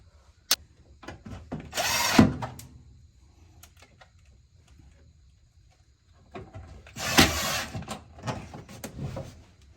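Two short whirring bursts of a power drill driving a screw, separated by a quiet pause with light knocks and handling noises.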